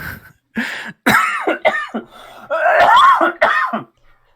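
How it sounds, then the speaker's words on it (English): A cartoonish cough and throat-clearing sound from the Apollo Justice video game, several rough bursts in a row, loud and close, with no other talk. "The cough sound is how you say forehead in Babalese."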